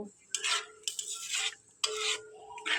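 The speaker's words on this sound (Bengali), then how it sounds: "দিয়ে মশলাটা এবার ভালো করে কষে নেব।" Spice paste of ground ginger, garlic, chilli, cumin, coriander, turmeric and chilli powder being stirred and fried in oil for mutton curry, with bursts of scraping and sizzling in several uneven strokes, close and fairly quiet.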